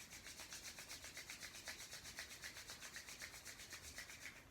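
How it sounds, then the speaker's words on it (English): Palms rubbing briskly together during a Kundalini Yoga session, a steady close swishing friction in quick even strokes, about four per second, with no voices. "So, rub your hands together."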